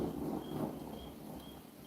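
A low, distant rumble of thunder near Atlanta's Hartsfield Airport rolls and slowly fades, with faint wind noise in the background.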